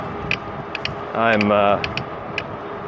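Rhythmic mechanical creaking and ticking from a RadRover electric bike drivetrain, with a brief louder grinding squeal in the middle, close up.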